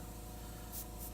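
A Copic airbrush sprays marker ink onto paper, a steady, close, continuous hiss that swells briefly toward the end.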